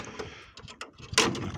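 A polycarbonate greenhouse door knocks and rattles in the wind on an arched 2.5 m wide greenhouse, with several uneven clatters and a louder bang near the end.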